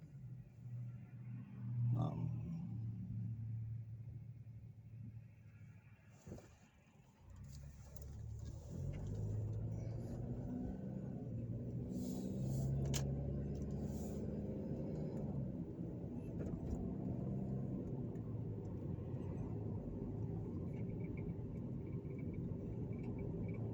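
Steady low rumble of a car driving along West Columbia Street in Evansville, Indiana, a continuous road and engine drone with a brief dip partway through, heard from inside the vehicle without talk.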